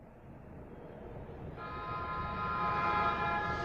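A cartoon train rolls along with a steady rumbling clatter, and a tooting horn tone joins in halfway through and grows louder toward the end, with no voices over it.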